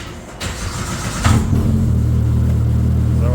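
A car with a stand-alone ECU and turbo kit fires up from a brake-and-push-button start: a short cranking whir, then the engine catches with a flare and settles into a steady idle.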